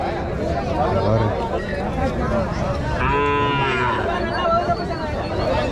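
A calf gives one clear, drawn-out moo at a crowded cattle market, rising over constant chatter and crowd babble with voices talking throughout.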